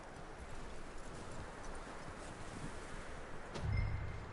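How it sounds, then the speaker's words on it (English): Horse hooves clip-clop in Red Dead Redemption 2, a steady walking rhythm over a soft ambient bed, with a heavier thud near the end. "That looks like a decent horse."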